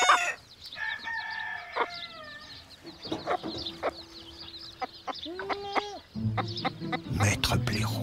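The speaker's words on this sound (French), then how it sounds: "Le coq a sonné l'alarme." Farm rooster crowing an alarm, its calls ringing out among clucks from fowl while a narrator speaks over the birds.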